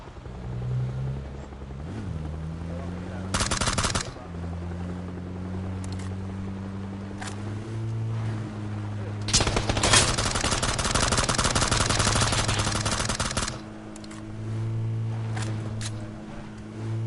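Gunfire in PUBG: two loud bursts of automatic fire, one short and one long sustained volley, play over a steady vehicle engine drone that rises and falls.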